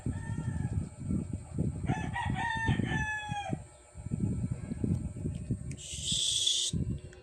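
Caged rooster crows once in a short harmonic burst amid ongoing clucking and rustling, followed by a brief high squawk near the end; fairly close and moderately loud, with no talk over it.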